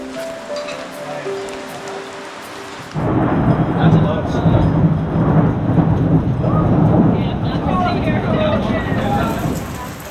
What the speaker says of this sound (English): the rain picked up, got pretty heavy, and there was quite a bit of thunder and lightning